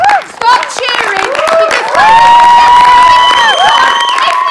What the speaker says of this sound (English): Start clapping your hands, start cheering